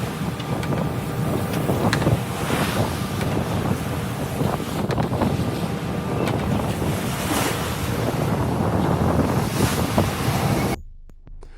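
Head-on ocean waves pound against a ship's hull, a loud, continuous roar of surf and rushing water with heavy wind buffeting, surging in repeated crashes before cutting off abruptly.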